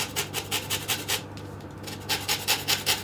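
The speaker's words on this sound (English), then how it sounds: "Next I'm just going to get 2 lemons and I'm going to grate the zest into here." Lemon zest is grated into a bowl for a lemon blueberry cake: quiet, rhythmic scraping strokes in quick repeated bursts, with a short pause near the middle.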